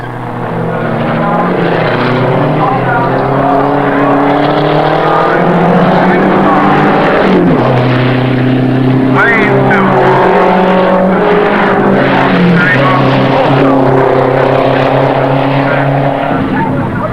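Saab Turbo race cars in a Mobil Challenge race at Oulton Park roar past continuously and loudly, with a commentator's voice running over the engine noise throughout.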